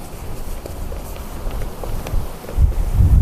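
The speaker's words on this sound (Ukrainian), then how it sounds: "Дує вітер страшно." Steady, roaring wind at an outdoor carp fishing spot buffets the microphone throughout, with low rumbling gusts that swell louder toward the end; no one speaks.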